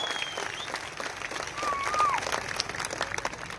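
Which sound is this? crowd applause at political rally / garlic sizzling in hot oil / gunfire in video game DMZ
crowd applause at political rally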